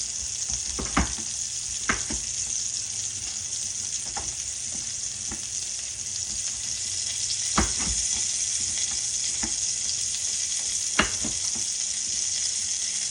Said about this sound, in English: I've got my pork chops on low